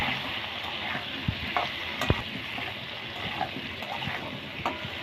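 Potatoes frying with salt and turmeric for a prawn curry, a soft continuous sizzle with occasional scraping knocks of a spatula, fairly quiet and close.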